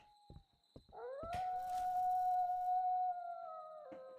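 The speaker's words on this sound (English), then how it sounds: "Goddamn dogs." Dogs in the video game We Harvest Shadows let out a long, sustained howl that rises and holds steady for about three seconds before fading, with a few short clicks and thumps just before it starts.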